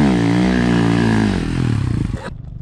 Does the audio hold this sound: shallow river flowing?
no